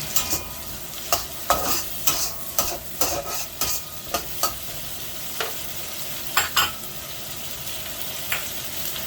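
Egg stir-fried in a pan for fried rice: sharp, irregular scraping strokes of a utensil against the pan over a steady, soft sizzle, close and clear with no talking.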